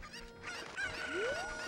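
Chickens in a video game cluck and squawk over a busy bed of game sounds and music, moderately loud, with a rising tone sweeping through near the end.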